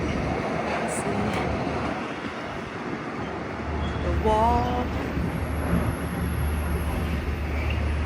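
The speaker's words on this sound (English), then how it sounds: "That's a train." A train carrying cargo container trucks rolls past at night in Vienna, giving a steady broad rumble that swells partway through, with light wind and a brief voice over it.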